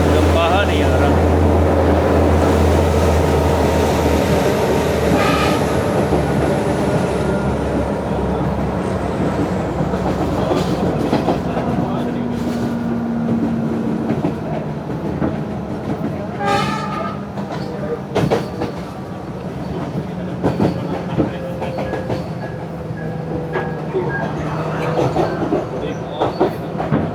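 A Sri Lanka Railways passenger train running from Colombo to Gampaha, a steady loud rumble with rhythmic clickety-clack of wheels on rail joints, heard from inside the carriage.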